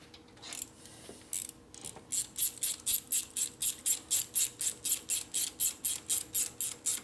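A ratchet wrench tightens bolts near the manifold and carburetor of a 1967 Harley-Davidson 74ci shovelhead FLH. After a few scattered clicks, it settles into a steady, close run of about eighteen sharp ratcheting bursts.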